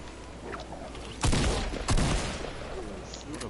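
Burst shotgun fire in Fortnite: two loud, sharp bursts about half a second apart, each a rapid cluster of blasts, with quieter game ambience before and after.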